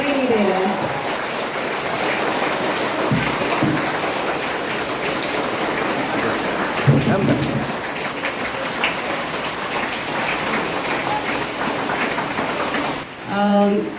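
Steady, heavy rain pours throughout an outdoor farewell function at a village school, a dense hiss with occasional louder patters, while voices and crowd sounds come through underneath.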